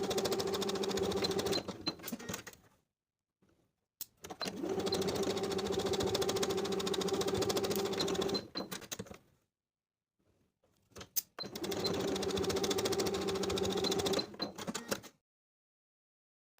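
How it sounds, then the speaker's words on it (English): A sewing machine runs a narrow zigzag stitch in three sustained bursts of steady, close mechanical whirring, with brief pauses of silence between them while sewing an athletic top seam and backstitching. "Then we'll skip to the fourth notch and sew to the end, once again backstitch to secure"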